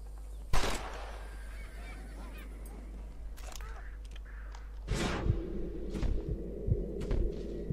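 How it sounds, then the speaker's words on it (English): Birds flushed up in the Red Dead Redemption video game honk and flap amid outdoor ambience. A sharp burst comes early, then a busier stretch of rustling and calls follows. A constant low hum sits underneath, with no speech. "I'm gonna scare up some birds."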